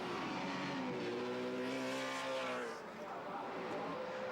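A race car drives on a track, its engine whining steadily and climbing in pitch, heard at a moderate distance while people talk over it.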